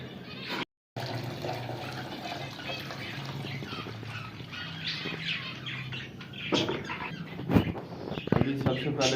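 Water poured into containers for pet birds during a morning cage setup, a steady splashing pour mixed with close bird squeaks and chirps, with a sharp rise in activity near the end.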